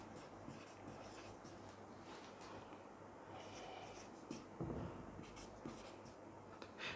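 Numbers being written on a board during a math lesson, faint scratchy strokes with a light tap, quiet and close over a steady room hiss.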